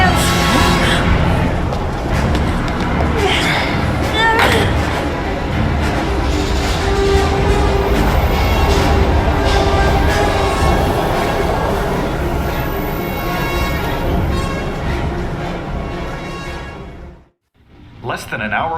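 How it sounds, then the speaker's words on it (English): A train rumbles and clatters steadily in the Heavy Rain video game, a loud close rolling roar with rhythmic rail noise and music mixed in, briefly cutting out near the end. "We've got to get on that train, Ethan."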